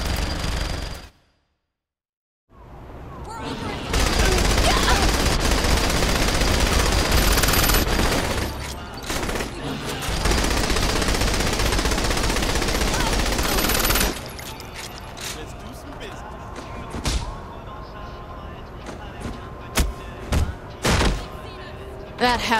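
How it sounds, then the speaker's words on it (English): Sustained minigun fire in the video game Saints Row 3: after a brief silence, long dense roaring bursts run for several seconds, then give way to scattered thuds and shots, with a voice speaking over the action. "Minigun!"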